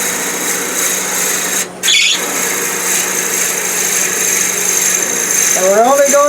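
A drill bit held in a Jacob's chuck bores into a wooden peppermill blank on a lathe, making a steady, loud whirring grind with one brief dip partway through. A voice speaks over the end.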